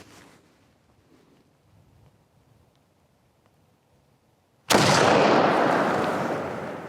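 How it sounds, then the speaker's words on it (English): A single loud shot from a KR1 rifle cracks out after several seconds of quiet outdoor ambience, its report ringing and slowly decaying. "I think first time I fired this rifle"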